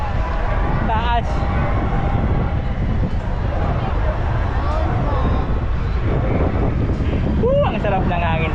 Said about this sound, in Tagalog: super lakas po ng hangin dito sa taas